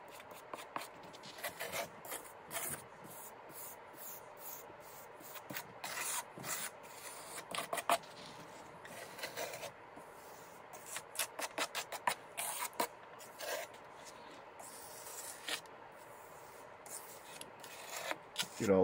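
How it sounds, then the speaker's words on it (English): Wet concrete being troweled smooth inside a plywood form for a bonsai pot, heard as close, irregular scraping and rasping strokes that come in bursts, with no voices. "Now's when you want to really trowel it"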